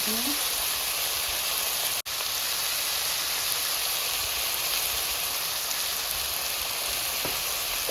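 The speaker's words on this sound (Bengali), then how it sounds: "চিংড়ি মাছ এবার আলু আর এই টমেটো গুলো একসঙ্গে আমি দিয়ে কষাবো নুন দিয়ে দেবো" Prawns, potatoes and tomatoes sauté with salt in a pan, giving a steady, close, loud sizzling hiss with one sharp click near the start.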